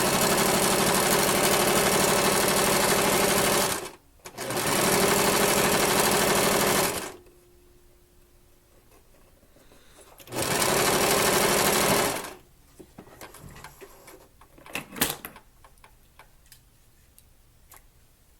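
A sewing machine stitches in three loud, steady bursts of several seconds each, rattling and shaking on an unsteady surface while taking in the side seam of a dress, with brief quiet gaps and soft handling clicks between runs.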